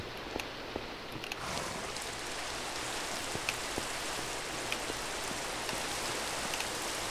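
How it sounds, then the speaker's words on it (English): Steady rain hisses down in a Minecraft game world, a continuous even wash of falling drops with faint scattered ticks, no voices over it. "And it's raining again."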